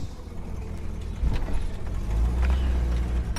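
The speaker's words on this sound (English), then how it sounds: "she still sounds like a pub truck until I get the exhaust fixed" A Holden HK car with a V8 engine and damaged exhaust rumbles loudly and steadily from inside the cabin, with a deep low drone that swells partway through.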